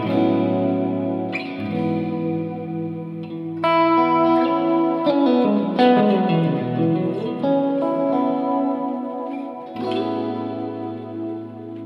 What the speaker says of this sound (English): that's the Boss Reverb RV6. I really like it, especially this modulate setting